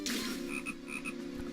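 Frog croaks loudly and close in The Legend of Zelda: Phantom Hourglass, a quick series of throaty croaks over a steady game ambience.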